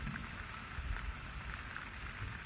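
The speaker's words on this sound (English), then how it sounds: "And then it started to rain." Steady rain falls over the fields at Gettysburg as a battle winds down, a constant broadband patter with no single drops standing out and no voices.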